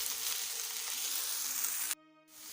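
Okra (bhindi) frying in a pan gives off a dense, loud, steady sizzle that cuts out abruptly near the end and then returns more quietly.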